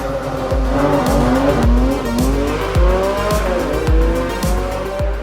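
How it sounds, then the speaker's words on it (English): A Porsche 718 Cayman GT4 RS doing a launch control start at Estoril, its engine howling loudly up through rapid successive gear changes, each shift a sharp break in the rising note, with some tire noise. "A launch control start with a GT4 RS is super easy."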